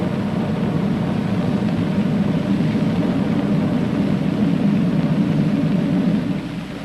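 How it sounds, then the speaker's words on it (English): Throttled-back spaceship rockets in an old-time radio space adventure, a steady low rumbling drone held evenly for several seconds before easing off slightly at the end. "Sound like our rockets were throttled back."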